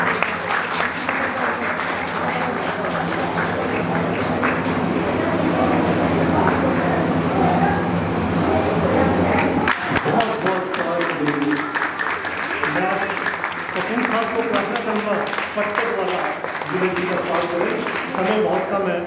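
Loud, dense applause from an audience at a children's summer camp event at Arya Samaj Kalka Ji fills the room, then thins out as a voice starts talking over the fading claps.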